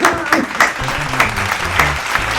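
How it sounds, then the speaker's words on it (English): A live audience at a comedy show claps, a steady wash of applause with a few sharper claps standing out, while a low tonal rumble runs underneath; fairly loud and close throughout. "Everybody give him a round of applause."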